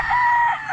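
A young rooster (stag) lets out a single short, loud, close crow with a strained, tonal pitch that fades at the end.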